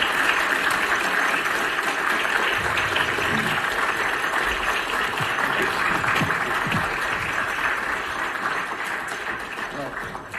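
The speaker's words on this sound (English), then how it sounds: "Round of applause." Applause from a conference audience at a monetary policy event, a continuous roomful of clapping that holds steady then eases slightly toward the end, with some voices and murmuring mixed in.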